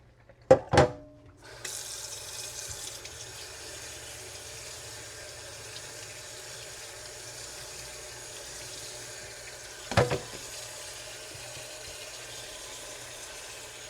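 Kitchen sink tap water running over cooked spaghetti in a colander, a steady close rush of flowing water lasting several seconds after a couple of sharp clunks, with a brief knock partway through.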